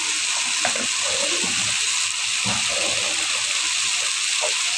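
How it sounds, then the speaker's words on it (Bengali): Water gushes steadily into a pot of fish and potato curry, a close, continuous bright pouring rush with a few faint clinks beneath it. "একটু জল দিয়ে দিয়েছি"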